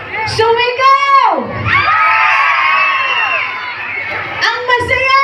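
A large crowd of children shouting and cheering together at a Christmas lighting event in Tabuk City, loud sustained whooping in rising and falling waves, close and continuous.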